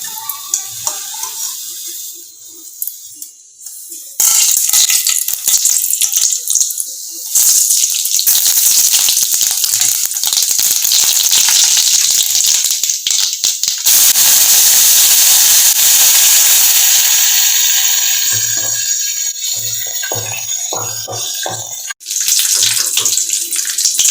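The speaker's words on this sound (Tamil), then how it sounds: "இது இப்போ கடுகு கருவேப்பிலையெல்லாம் போட்டு தாளித்து கொட்டிடலாங்க சட்னிக்கு" Mustard seeds and curry leaves are tempered in hot oil for onion chutney, a loud hissing, spluttering burst that jumps in suddenly after a quiet start and sizzles on steadily, close and without speech.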